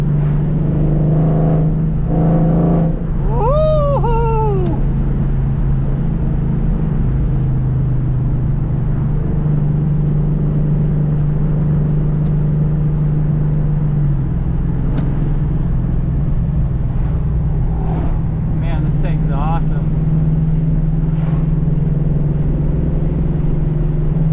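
A car fitted with a swapped Ford Coyote V8 engine drives along, its loud, steady engine rumble close by, rising in a few revving accelerations with brief whines and a tire chirp.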